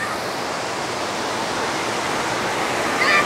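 A mountain stream at a village bathing spot rushes in a loud, steady broadband wash that holds evenly throughout, close by and continuous with no voices.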